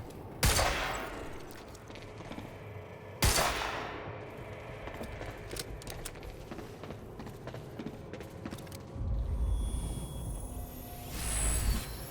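Gunfire in the video game Quantum Break: two sharp, loud shots several seconds apart over a rumbling, crackling game backdrop, with a heavier burst of noise near the end.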